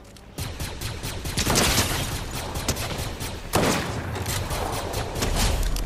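Gunfire in a video game comes as a rapid volley of shots and impacts. The bursts are dense and moderately loud, with the heaviest clusters partway through.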